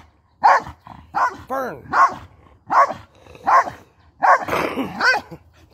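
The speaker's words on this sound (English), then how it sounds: "You still bark with that damn thing jammed in your damn mouth." A dog barks close up with a bone held in its mouth, giving about eight muffled, strained barks in an uneven rhythm, and someone briefly speaks.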